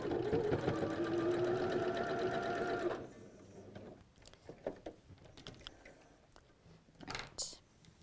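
Sewing machine stitching through a quilt piece, a steady close whirr for about three seconds before stopping, followed by quiet handling sounds of fabric.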